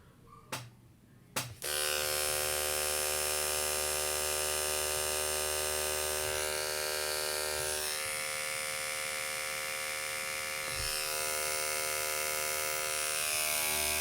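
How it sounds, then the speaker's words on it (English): An Andis reVite hair clipper clicks on after a couple of brief switch knocks, then runs with a loud, steady electric buzz and high whine that stays close and continuous to the end. "I'm gonna go ahead and turn on the clipper"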